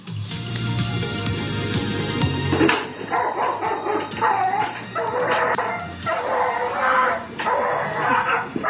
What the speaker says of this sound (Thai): หมาเห่าลำคาญไหม